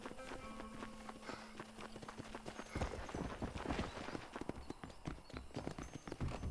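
Horse hooves in the video game Red Dead Redemption: a steady, close clip-clop of a trotting horse over a continuous bed of game ambience.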